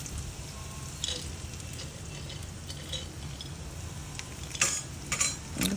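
Vermicelli (semiya) frying in a pan for carrot payasam, stirred steadily: a soft continuous sizzle with faint scrapes and a few sharper clinks of a spoon against the pan near the end, no talking.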